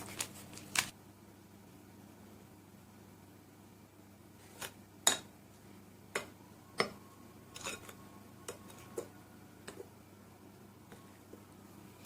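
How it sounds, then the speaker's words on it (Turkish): A spoon folds flour into tahini cake batter before whisking. Sparse, sharp taps and clicks of the spoon against the bowl come at irregular intervals, close but soft, with no talking. "Çırpmadan önce şöyle kaşıkla güzelce böyle yediriyorum"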